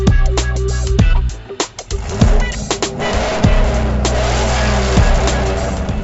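Chevrolet Trailblazer SS with Cook's long tube headers and Corsa catback exhaust revs loudly and close, a deep throaty roar rising and dropping in several sharp blips amid clatter.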